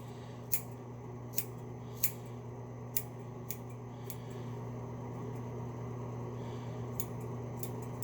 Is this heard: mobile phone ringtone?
no